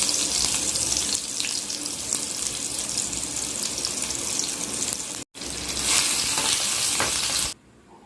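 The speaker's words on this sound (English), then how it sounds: "Then after that, I need to put onion in the pan." Onion fries in mustard oil in a pan with a loud, steady broadband sizzle that runs continuously, breaks off for a split second, resumes, then drops away near the end.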